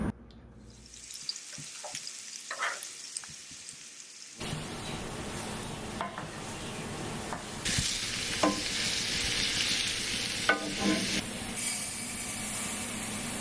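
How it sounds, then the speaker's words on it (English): Chopped onion sizzles in olive oil in an iron skillet, starting quiet with a few clicks, then bursting into a loud, steady crackling fry that grows hotter, with stirring scrapes throughout. "I'm going to chop up this onion and then put it in an iron skillet with olive oil."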